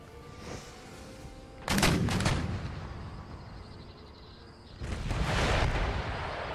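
Musket volleys and artillery fire in the video game Empire: Total War ring out as two loud bursts of booming, crackling gunfire with rumbling battle ambience between them.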